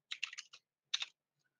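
Keystrokes on a computer keyboard as a command is typed: a quick cluster of four or five taps, a short pause, then two more, close and crisp with no talk.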